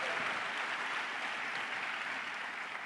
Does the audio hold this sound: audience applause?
yes